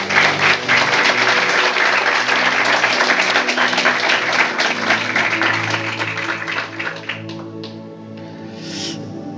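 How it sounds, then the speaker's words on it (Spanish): Church congregation applauding in a sustained, dense wash of clapping that holds loud for several seconds, then thins and fades toward the end, with faint voices near the close. "Y ahora da un aplauso a Dios."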